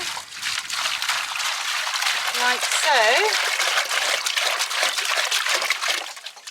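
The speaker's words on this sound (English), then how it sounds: "I put a scoop, a little cup, into a bucket and add some water" Water trickles and splashes steadily into a bucket holding a scoop of Red Mills hydration mash for horses, with a person speaking briefly partway through.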